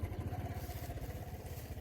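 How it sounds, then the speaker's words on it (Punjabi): A motorcycle engine runs nearby with a steady, low, rhythmic idling thrum and no talk over it. "ਇਹ ਬੰਦ ਕਰ ਲਾ ਮੋਟਰਸਾਈਕਲ"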